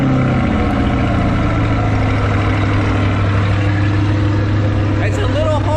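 A 2021 Chevrolet C8 Corvette with the Z51 package and performance exhaust idles after a cold start, giving a steady low engine hum that runs under continuous talking.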